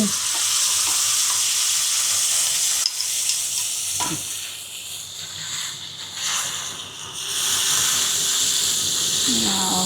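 Vegetable scraps, likely pointed gourd peels, tipped onto browned onions frying in a pan on the stove, a steady loud sizzle and hiss with a sudden burst as they drop in and stirring clatter throughout.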